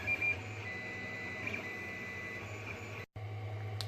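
A 3D printer fitted with a pen holder and textile marker draws on fabric, giving a steady, close mechanical whine and hum that runs continuously before briefly cutting out near the end.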